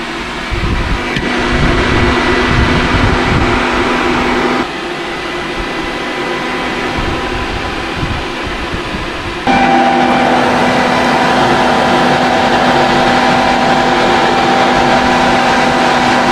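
An electric cooling fan added to an RV and powered by a low battery drones steadily with a whooshing mechanical whir, its pitch shifting as it runs, then stepping up to a louder, faster roar for the final stretch.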